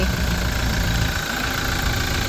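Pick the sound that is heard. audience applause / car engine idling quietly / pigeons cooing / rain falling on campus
car engine idling quietly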